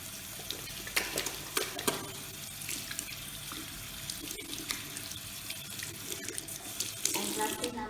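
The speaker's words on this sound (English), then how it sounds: "Wash our hands with sufficient clean water." Hands are rubbed and rinsed under a running tap, water splashing irregularly into a sink with a few louder splashes throughout.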